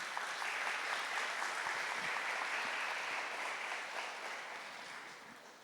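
A church congregation applauding the word of God during a Catholic sermon, a sustained spread of many hands clapping at moderate volume that gradually fades toward the end.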